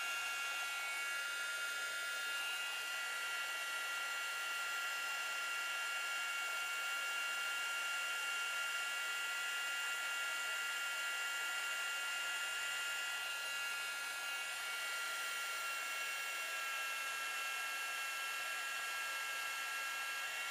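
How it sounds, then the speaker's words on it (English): A heat gun blows steadily on metal jewelry settings to melt solder for scarab earrings, a constant airy whine with a high tonal hum, close and unbroken, with no talking. "You are going to heat the metal, then remove the heat gun a little bit, and you just touch the settings with the solder."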